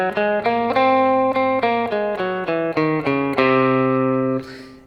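A guitar runs through the altered (Superlocrian) scale, one clean note after another in a steady stepwise line, close and clear, before closing on a sustained ringing chord that fades out.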